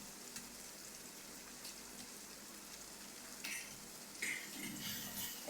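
Spice paste for Bengali-style Chicken Changezi fries in hot oil with a steady, close sizzling hiss that swells into louder crackling bursts toward the end; no one speaks.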